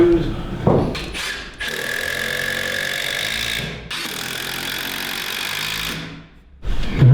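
A power tool drives screws into a board in two long whirring bursts with short pauses between, loud and close, with brief voices around it.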